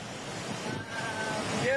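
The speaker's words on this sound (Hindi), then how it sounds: "लोहे का पुल जो है वो बर्दाश्त नहीं कर पा रहा है, इतनी तेज रफ्तार से नदी बह रही है" Swollen river rushing fast beneath a heavy iron bridge in flood, a steady broad roar of water with wind noise, continuous and fairly loud, with a voice talking over it.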